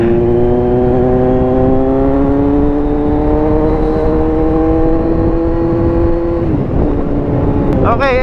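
A Kawasaki Z900 with an open exhaust pipe revs loudly up close, its note climbing steadily for several seconds before dropping off, then blipping again at the end.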